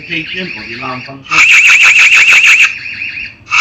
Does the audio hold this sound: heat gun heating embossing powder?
no